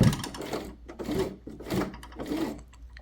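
Sewing machine stitching in reverse while adding a pocket to a shirt, a few short whirring bursts of the motor, close and moderately quiet.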